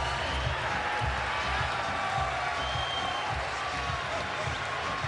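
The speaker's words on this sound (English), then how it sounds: "Very active crowd, I'll say that." Lively arena crowd at the Juan Manuel Marquez vs Joel Casamayor boxing fight, a continuous dense roar of voices and murmur with low thumping pulses underneath, holding steady throughout.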